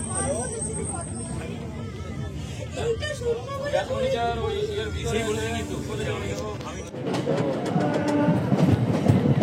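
A passenger train rumbles and clatters along on a foggy morning while people aboard chat and laugh close by, the running noise growing louder and rougher toward the end.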